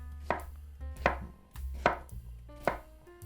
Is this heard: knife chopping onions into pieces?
yes